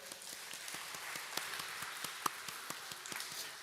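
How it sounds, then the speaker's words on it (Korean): A church college-group audience claps during a sermon. The claps are sparse, evenly spaced and fairly faint, rather than a dense roar. "박수 한번 쳐줄까요?"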